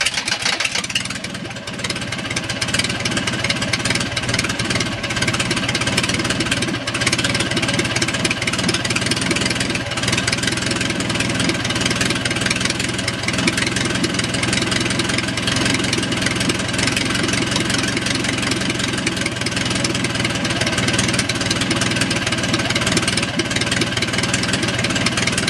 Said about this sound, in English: I've got the idle screw all the way out, and the engine's warmed up